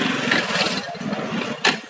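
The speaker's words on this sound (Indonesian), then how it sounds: "Selanjutnya menggunakan kickstarter." A motorcycle fitted with a WiFi-controlled security system being kick-started: a continuous close mechanical churn of the kickstarter and engine, ending in a sharp thump.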